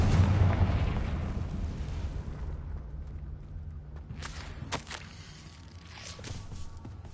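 Confringo fire-blast spell cast in the video game Hogwarts Legacy: a loud, booming, rumbling burst at the start that slowly fades, followed by quieter scattered crackles and footsteps.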